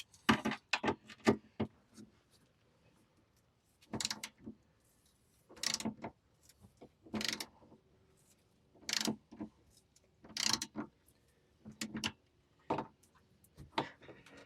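Ratchet wrench working 13 mm side step bolts loose on a Ram 1500 pickup, quick bursts of close clicking with short pauses between them, repeated many times.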